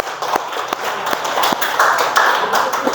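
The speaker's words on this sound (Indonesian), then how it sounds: "Tepuk tangan untuk kelompok mereka." Classroom of students clapping for a student group after its presentation, a close, fairly loud patter of hand claps with a few sharper individual claps standing out over three seconds.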